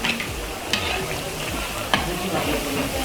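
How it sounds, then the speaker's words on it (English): Rock buns bubbling and sizzling in hot oil, a steady close crackle with occasional soft stirring clicks and no talking. "the oil looks really hot"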